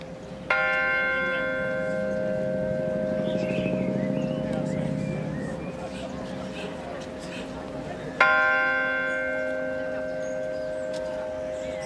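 A memorial garden bell, funded by local community donations, rings out in two clear strikes several seconds apart, each one leaving a long resonant hum that fades slowly under a quiet outdoor background.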